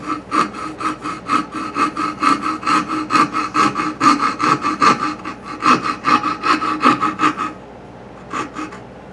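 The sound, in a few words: hand sawing wood for a pinewood derby car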